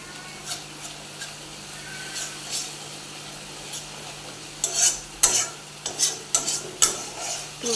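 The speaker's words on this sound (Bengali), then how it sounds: "মশলাটা থেকে তেল যতক্ষণ না ছাড়বে, একটু ভাজা ভাজা হবে, ততক্ষণ মশলাটা কষতে থাকতে হবে" Spice paste for a bele fish curry stirred and fried in hot oil, with a soft steady sizzle and scraping spoon strokes that grow louder and more frequent toward the end.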